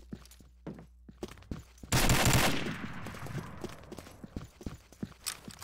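Video game gunfire: one loud, close burst of shots stands out against quick, light, clicking footsteps that run through the rest of the moment.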